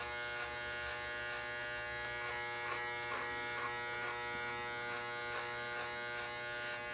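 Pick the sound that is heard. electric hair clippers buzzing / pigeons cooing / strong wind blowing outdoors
electric hair clippers buzzing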